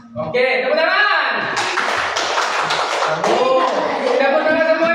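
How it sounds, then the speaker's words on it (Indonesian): Children clap their hands together in a classroom, a dense, steady burst of clapping that fills nearly five seconds, with voices and chatter mixed in throughout. "Tepuk tangan semuanya dulu."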